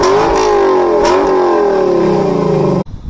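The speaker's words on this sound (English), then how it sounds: "We have a naturally aspirated V8 engine that makes great power and sounds amazing." A 2024 Lexus LC 500 convertible's naturally aspirated V8 revs loud and close, holding a sweeping high pitch for nearly three seconds before cutting off abruptly.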